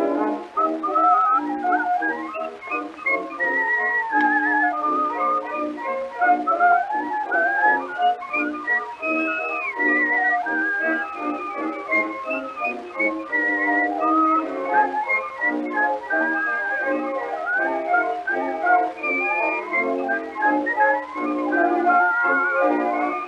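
A whistled melody from a 1921 song recording, a bright, continuous tune with clear rising and falling notes over old-record instrumental backing.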